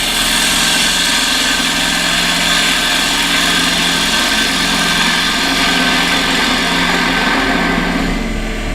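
Bowl gouge riding its bevel on spinning wood on a lathe, a continuous close hiss and whir over the steady hum of the lathe motor, unbroken and without talk.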